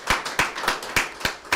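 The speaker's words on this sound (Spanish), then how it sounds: "yo les pido a ustedes un aplauso para Luis Carlos" A few people clap for Luis Carlos Benedetto, giving six close, sharp, evenly spaced claps in a slow rhythm with no wider applause around them.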